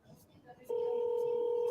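A telephone rings on the line with a steady, loud electronic ring tone that begins abruptly after faint background murmur.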